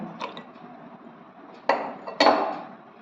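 Ice cubes drop into a container for a lychee milkshake, giving two sharp clinking impacts late in the stretch after a few faint light knocks, close and clear with no talking.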